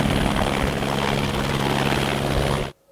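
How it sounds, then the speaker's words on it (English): A Sikorsky R-4 helicopter gives a loud, steady rotor-and-engine drone with a low rhythmic throb that runs unbroken for nearly three seconds before cutting off abruptly. "Our number three aircraft is the Sikorsky R4."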